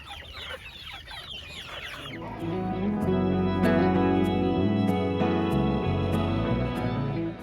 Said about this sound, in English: As you can hear, the little chicks out here, they're hungry.